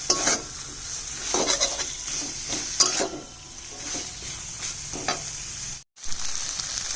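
Stem chorchori with poppy seeds cooks in mustard oil under a continuous sizzle. Repeated spatula scrapes and clinks of utensil on pan punctuate it, and there is a brief silent gap just before the end.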